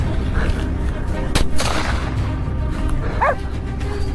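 A single sharp gunshot aimed at a wild boar during a hunt with dogs, loud and abrupt against outdoor background noise, followed by a brief dog yelp.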